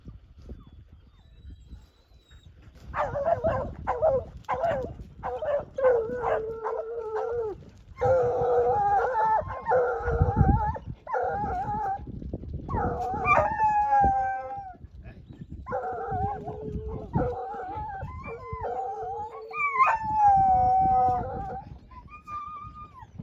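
Several hunting hounds bay and howl on a hog scent in drawn-out, overlapping cries, rising and falling continuously at moderate distance amid rustling outdoor noise.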